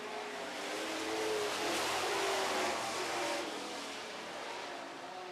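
Super Trucks race engines roar on the track after a green-flag restart, a distant, steady rumble that swells briefly as the pack passes and then eases off, with no voices over it.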